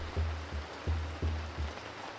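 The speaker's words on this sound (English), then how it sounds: "Man, that rain is coming down like crazy" Rain falls steadily in the Ancient Cities video game, a continuous close hiss of water with soft, rhythmic low thumps recurring about every third of a second beneath it.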